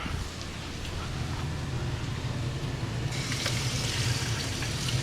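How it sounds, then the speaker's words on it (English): Tap water runs steadily over vegetables being rinsed in a kitchen sink, a continuous close splashing that turns brighter and louder partway through as the stream hits the produce more directly. "Gotta rinse these veggies out though."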